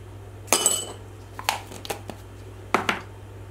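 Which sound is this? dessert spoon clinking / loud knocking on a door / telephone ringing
dessert spoon clinking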